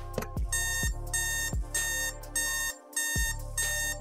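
A heartbeat alarm clock rings in repeated bright electronic bursts with short gaps between them, close and clear, with no voices.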